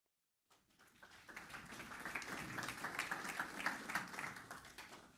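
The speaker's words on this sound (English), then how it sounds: "So please give a big round of applause for Ilya Ganusov." At the Altera Innovators Day keynote, a crowd welcomes speaker Ilya Ganusov with applause that begins after a brief silence, swells into a moderate wash of clapping, and holds steady while still faint overall.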